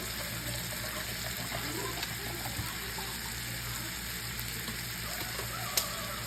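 Sausage sizzles in a hot pan while a chicken Alfredo is being cooked, a steady, even hiss and crackle with faint low kitchen hum underneath and one sharp click near the end; no one speaks.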